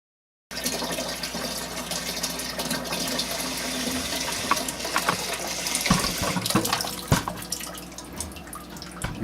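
Water runs steadily into a hot liquor tank on a home brewing day, a continuous close splashing rush that starts abruptly and builds with gurgles and drips.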